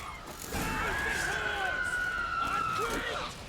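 Siren monsters in the video game The Witcher 3 let out a long, wavering, high-pitched screech that rises and falls, with softer game sounds underneath.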